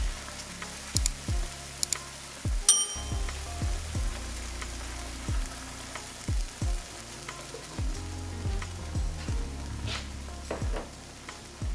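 Vegetable stock goes into a hot pan of seasoned endive, bringing a soft sizzle marked by repeated low thuds and clunks of utensils against the pan, close and moderate in level, with no talk.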